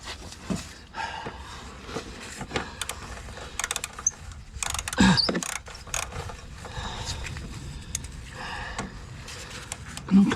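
Socket wrench ratcheting on a corroded rear bolt while fitting sidesteps to a 2003 Volvo XC90, bursts of quick close clicks with pauses and occasional knocks, no talk.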